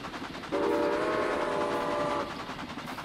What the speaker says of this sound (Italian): Bello, questo è un bel treno.